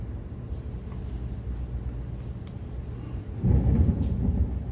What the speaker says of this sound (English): Ooh, that's thunder!